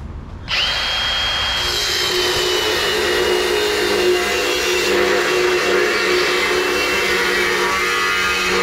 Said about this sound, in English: Cut the front frame horn off and then bend our tube.